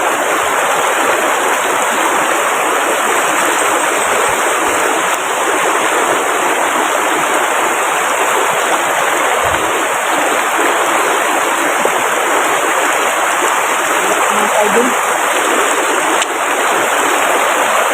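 Water flows steadily in a creek, a continuous broadband rush with no breaks, close and fairly loud throughout, with no voices.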